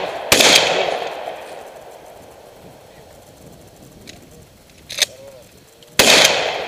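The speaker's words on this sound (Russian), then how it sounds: "Есть выстрел, у тебя патрон в патроннике." Three sharp gunshots from a firearm during standing shooting practice, loud and near, spaced irregularly with a low rumble trailing each report and quiet room tone between them.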